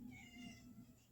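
A pet cat meows in a drawn-out, whiny tone, fairly faint and alone with no talking.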